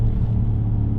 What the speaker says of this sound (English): Crackling exhaust.